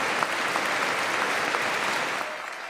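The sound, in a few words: US Congress members applauding standing after speech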